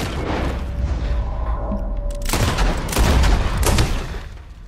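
Gunfire in the video game Red Dead Redemption 2 comes as a dense fusillade of loud booming shots, heaviest in the second half of the clip.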